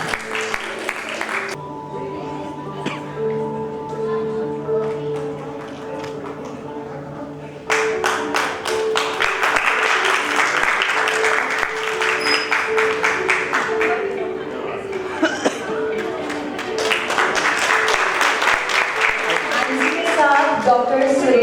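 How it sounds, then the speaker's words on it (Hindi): Audience applause at the Dynamic Excellence Awards 2024 ceremony: a steady, dense roar of clapping that starts abruptly after a stretch of sustained tones and voices, then stays loud and full to the end. "तालियां, लेडीज एंड जेंटलमैन, जोरदार तालियां।"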